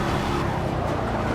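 Ford Mustang engine in the racing game Forza 6, a steady, dense, full-throttle roar that holds constant and loud with no pauses.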